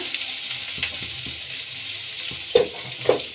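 Chopped onions frying in a pan alongside small potatoes for a crispy spicy potato fry, a steady soft sizzle with a couple of sharper spatula scrapes near the end.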